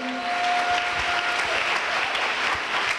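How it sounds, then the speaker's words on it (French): A church congregation claps steadily and enthusiastically in praise, a dense wash of applause that holds at an even level throughout. "Give the Lord a big clap of praise."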